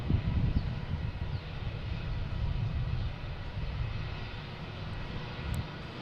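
A Lufthansa Boeing 747-400 jet at Boston Logan International Airport gives a steady, distant low engine roar that holds evenly throughout, with no voices.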